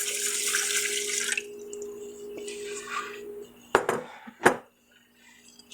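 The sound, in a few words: pouring water into a pot for rice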